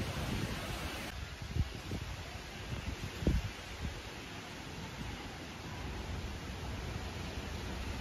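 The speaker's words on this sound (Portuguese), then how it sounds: "Vocês não têm noção do tanto que tá ventando aqui." Steady wind hisses and rushes continuously ahead of approaching rain in the hills, with a few low thumps of gusts hitting the microphone; no voices.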